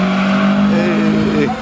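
A race car at a track in Sacramento drones loudly with a sustained engine tone that shifts slightly in pitch, with a voice talking over it.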